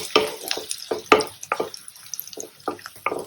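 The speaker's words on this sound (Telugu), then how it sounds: "ఒక మీడియం సైజ్ ఉల్లిపాయని చిన్న ముక్కలుగా కట్ చేసి వేసుకొని వేయించుకోవాలి." A medium onion, chopped small, fries in hot oil in a pan for garlic masala rice: soft crackling and sizzling spatters with irregular stirring scrapes, close and fairly quiet, no voices.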